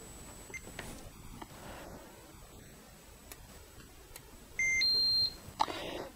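Socket & See CB400 installation tester beeping during a local loop test, a short tick and click followed by a steady electronic beep tone of about half a second, then a few faint clicks.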